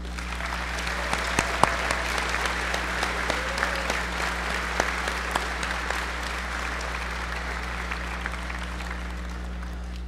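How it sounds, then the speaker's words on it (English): Steady audience applause fills a school fine arts festival evening, a dense continuous wash of many hands clapping at moderate level with a constant low hum beneath, sustained for about ten seconds. "let's show our appreciation to the teachers and students for their dedication with a huge round of applause"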